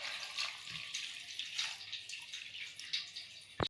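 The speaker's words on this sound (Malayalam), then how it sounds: "ഇത് വേവാൻ ആവശ്യമായ വെള്ളം ഇതിനകത്തേക്ക് ഒഴിക്കുക." Water poured into a pot of jackfruit seeds for cooking, a soft continuous splashing trickle that runs for a few seconds at low volume, ending with a small knock.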